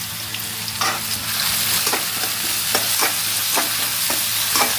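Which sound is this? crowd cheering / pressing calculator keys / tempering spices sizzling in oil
tempering spices sizzling in oil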